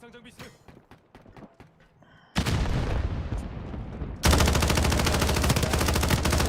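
Rapid automatic gunfire in the video game Modern Warfare, loud bursts that start mid-clip and intensify into dense continuous fire, with sparse sharper shots before.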